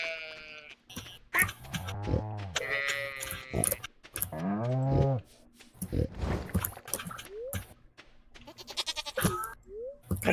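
Goat in the Stardew Valley farming game bleating repeatedly in short, wavering cries, with the game's animal calls standing out against a quiet background.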